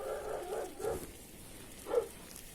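A dog barks in short bursts at night, several quick barks close together near the start, then a single bark about two seconds in, with quiet background between.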